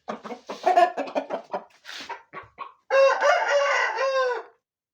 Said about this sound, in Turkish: Horozumuz burada.